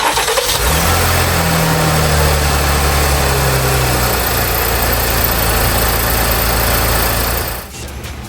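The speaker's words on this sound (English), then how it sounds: "I'm going to go ahead and start it up." A 2020 GMC Acadia, a salvage crash rebuild, cranks and starts in a garage, then settles into a steady, loud, close idle for several seconds before the engine cuts off near the end, with no talk.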